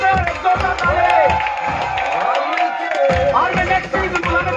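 Audience applause and cheering at a ceremonial speech gathering, dense and steady across the whole stretch while a loud amplified voice carries on over it.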